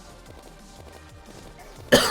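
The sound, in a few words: cough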